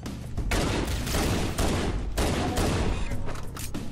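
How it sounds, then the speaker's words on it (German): Heavy, rapid weapon fire in Halo: CE Anniversary on PC keeps up in dense, loud bursts with only brief gaps, and no one talks. "Ich muss weiter auf ihn schießen, damit er nicht sein"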